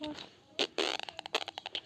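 A person mimics a fart with the mouth during a Brawl Stars game, making a short wet blurt followed by a quick string of sputtering pops, with talk around it.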